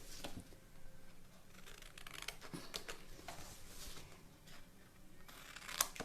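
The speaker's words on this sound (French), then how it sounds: "Et ce qu'on va venir faire, c'est qu'on va venir couper." Folded paper for a handmade Valentine's notebook is cut with scissors, producing soft repeated snipping and rustling close by at a low level.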